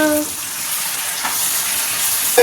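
Chicken pieces frying in a pan, a steady bright sizzle running throughout with faint clinks, close and fairly loud.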